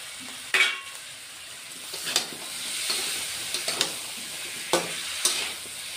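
Spice paste and green chili being sautéed in a pan for a fish curry with cauliflower and potato, a steady sizzle broken by several sharp spatula scrapes, close and alone without speech.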